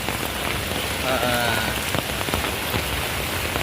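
Steady heavy rain pours down, a dense hiss of drops hitting surfaces without letup, with a faint bleat briefly audible underneath.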